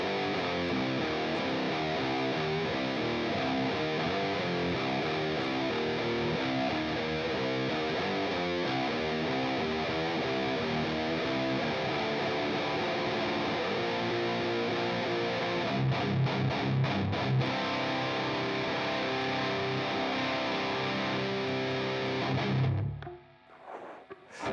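A high-gain electric guitar plays through an HX Stomp amp model boosted by a Line 6 Minotaur pedal, with two cabinets and reverb. Thick, saturated distorted chords run loud and continuous before cutting off abruptly near the end.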